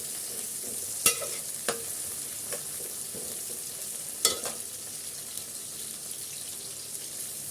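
Chopped tomatoes cook down in a pan for pulao, giving a soft, steady sizzle and bubbling under a hiss, broken by a couple of sharp utensil clinks and a few lighter taps.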